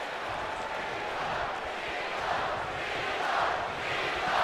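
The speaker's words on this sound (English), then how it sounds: "Crowd fairly pro-Cena here in Arkansas" Arena crowd in the WWE 2K19 wrestling game during an ECW title main event in Arkansas, a dense, steady roar of cheering that fills the whole stretch with little letup.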